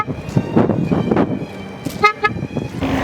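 An INEOS Grenadier Quartermaster pickup gives a short, gentle horn toot, a brief double-pulsed tone sounding clearly over road noise and earlier murmured talk.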